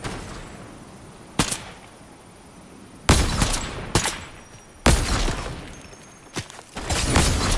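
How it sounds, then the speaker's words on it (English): Gunfire in a Fortnite match, with loud, close bursts of automatic shots that break out repeatedly and trail off into rattling echoes between volleys. "People shooting."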